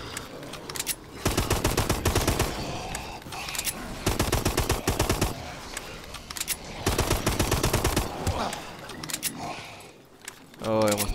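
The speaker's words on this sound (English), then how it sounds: "Let's see if I can kill most of them with my pistol." Gunfire in Advanced Warfare Exo Zombies, rapid bursts of shots in several clusters with rattling clatter between, loud and close, while someone talks over parts of it.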